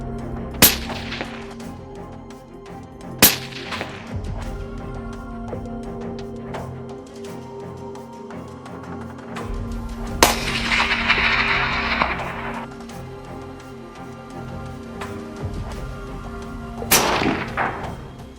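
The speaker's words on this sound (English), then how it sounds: "people devised another method using the Winchester Model 70 rifle" Sharp rifle shots from a Winchester Model 70 crack out during fox control by Australian farmers and hunters: four or five loud, isolated reports spaced several seconds apart, with quieter background rumble between them.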